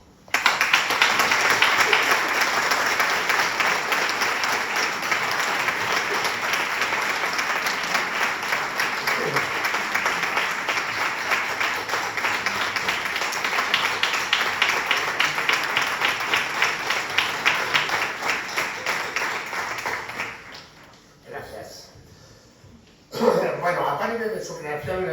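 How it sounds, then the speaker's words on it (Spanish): Sustained audience applause at a Madrid conference on neuroscience, AI and disability, with dense, even clapping holding steady for about twenty seconds before fading, then a short burst of activity at the end. "En reconocimiento, un aplauso."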